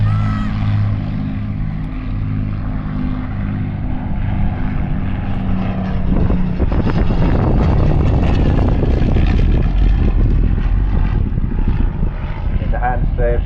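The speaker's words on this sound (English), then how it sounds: "waiting now for the bomber" A Battle of Britain Memorial Flight propeller bomber passes at the Southport airshow 2022, its heavy multi-engine drone swelling from a distant hum to a loud roar overhead, under a commentator's voice.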